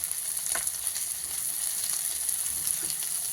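Manchurian vegetables with green garlic fry in a pan with a continuous close hiss and sizzle, broken by a few soft stirring scrapes.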